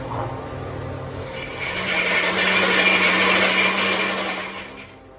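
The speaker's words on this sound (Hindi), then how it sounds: "अब एक मिक्सी पॉट में हम डाल देंगे नारियल के टुकड़ों को और इसका हमें बारीक बुरादा बनाना है" Mixer grinder pulverising coconut pieces into a fine powder, a loud close whirring motor that rises in strain midway and then cuts out sharply.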